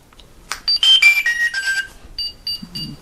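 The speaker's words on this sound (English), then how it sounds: "Right now that little signal, the sound, is telling you there's no throttle hooked up." Electronics on a Hangar9 Red Tail P-51 RC plane give off a sequence of short electronic warning tones, some stepping down in pitch, then a few brief repeated beeps. They signal that no throttle is connected. The tones are clear and close, with no talk.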